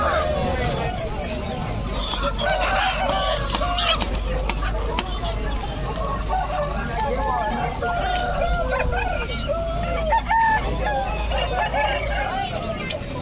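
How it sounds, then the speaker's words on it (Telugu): Roosters tied in a line at an open-air chicken market, occasional clucks and crowing scattered through steady crowd chatter, with people talking nearby throughout. "పుంజులు అనేవి అయితే లైన్లో అయితే కట్టేసి ఉన్నాయన్నమాట"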